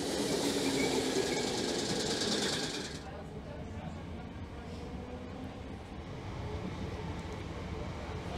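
A Merseyrail electric passenger train on its run from Capenhurst toward the Beach, with a steady rolling rumble inside the carriage that is loud at first, then settles into a quieter, continuous hum.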